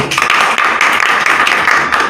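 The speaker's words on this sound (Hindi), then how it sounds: "इस पर कंपनी के नाम पर सर ताली बजानी चाहिए।" An audience claps in a burst of dense, loud applause, close and continuous, with overlapping hand claps and no speech over it.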